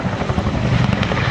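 A Chinook twin-rotor helicopter flying an airshow display, its loud, close rotor thump and engine roar filling the whole short stretch.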